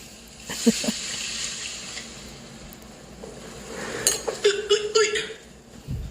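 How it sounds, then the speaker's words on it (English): Tap water runs into a kitchen sink amid clinks of dishes and cutlery, with a steadier stream late on and a person talking faintly nearby. "Okay, I'm gonna add water."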